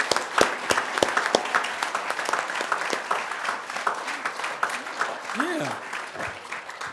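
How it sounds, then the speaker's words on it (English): An audience applauding at a community reading event, sustained dense clapping that tapers off as a voice speaks over it. "One more round of applause"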